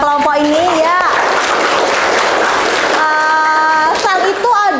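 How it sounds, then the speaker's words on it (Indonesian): Classroom applause for two student groups, a dense burst of clapping that fills the room while children's voices and a teacher's speech carry over it. "Berikan tepuk tangan terhadap dua kelompok ini ya."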